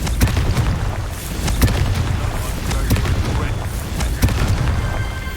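Booming fire-spell explosions from the Confringo spell in the video game Hogwarts Legacy thud repeatedly with sharp cracks and low rumbling blasts, loud and close over continuous game battle noise.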